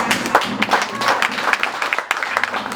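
An audience claps in a loose, uneven patter, moderately loud and close, with some crowd noise mixed in.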